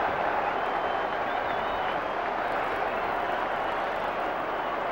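Middlesbrough football crowd applauding and roaring after a John Hendry overhead-kick goal, a steady broad wash of stadium noise with faint commentary beneath.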